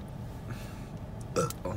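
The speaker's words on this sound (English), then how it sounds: "I'm burping up a piece of boba." A single burp rises out of quiet room noise near the end, short and close, after drinking boba tea with tapioca pearls.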